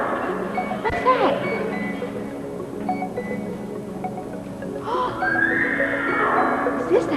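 A high, wavering horse whinny rises and falls twice over busy background noise and voices.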